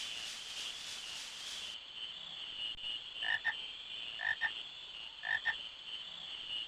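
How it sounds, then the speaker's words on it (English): Frogs croak in a Final Fantasy IX game area, three short paired croaks spaced about a second apart over a constant high insect-like drone, fairly quiet with no voices. "Aha, frogs."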